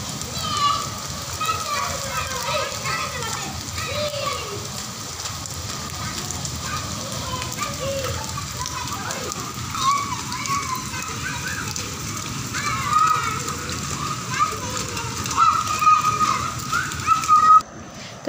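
Steady heavy rain hisses and patters throughout, while children shout and play in it nearby and someone talks over the downpour.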